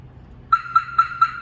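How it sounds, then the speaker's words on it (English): After a brief quiet moment, a Viper car alarm gives four quick, evenly spaced electronic disarm chirps, loud and close. "first of all, I'm gonna turn the alarm off."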